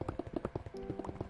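Horses in Minecraft clop along in quick hollow hoof taps, a rapid rhythmic series of close, crisp clip-clops with a brief tonal hum midway.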